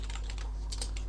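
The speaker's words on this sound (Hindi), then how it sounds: "मैं कोई IP एड्रेस हम टाइप कर लेता हूँ," Typing an IP address on a computer keyboard, a quick close run of light clicking keystrokes over a steady low hum.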